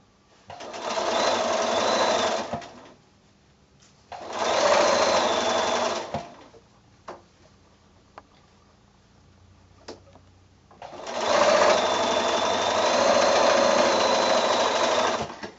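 A sewing machine stitches quilt block pieces together in three steady runs of a few seconds each, separated by pauses with faint clicks and fabric handling.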